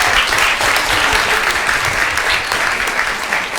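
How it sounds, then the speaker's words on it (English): Loud, dense applause from the audience at a town council meeting, steady clapping throughout with no pauses. "Give them a round of applause."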